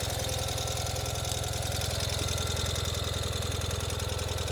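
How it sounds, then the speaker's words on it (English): A 2021 Ural Gear Up motorcycle in yellow and black custom trim idles just after starting, its engine chugging in a steady, even low thump that carries on close and loud with no speech. "So all we need to do is start the bike, and we did."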